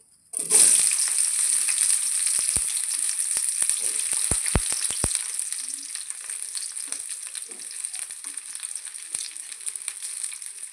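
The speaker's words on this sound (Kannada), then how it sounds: "ಈ ಟೈಮಲ್ಲಿ ಒಂದು ಕ್ಲೀನಾಗಿ ಬಿಸಿ ಚೆನ್ನಾಗಿ ಫ್ರೈ ಮಾಡ್ಕೋಬೇಕು. ಮೊದಲನೇದಾಗಿ ಈರುಳ್ಳಿ ಹಾಕ್ತಾಯಿದ್ದೀನಿ." Chopped onions dropped into hot oil in a pan set off a loud, steady sizzle that carries on evenly, with a few sharp clinks of a utensil early on and no talking.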